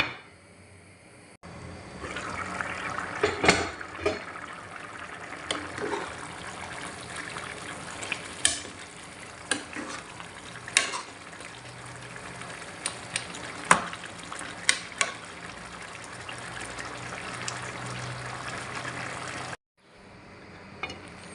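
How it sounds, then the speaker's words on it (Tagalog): Chicken yakhni pulao simmers in a covered pot with a continuous low bubbling sizzle and scattered small pops and crackles that run steadily for about twenty seconds. "ngayon hihintayin lang po natin siyang kumulo maluto hanggang mawala po yung sabaw"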